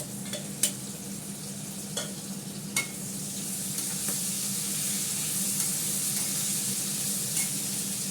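Potatoes fry in a pan with ginger paste, a steady close sizzle running throughout with a few sharp clinks and stirring scrapes, no talking.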